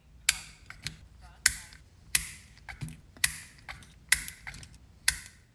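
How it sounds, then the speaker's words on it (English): Nail tip cutters snip through long artificial nail tips, one sharp crisp click after another. Eight or so close cuts come at an irregular pace with quiet gaps between them. "I am taking my nail tip cutters and I'm just going to cut down quite a bit of the nail length"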